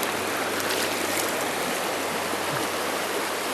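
Farmington River water rushing over rocks and pocket water, a loud, dense, unbroken stream roar up close with no voices.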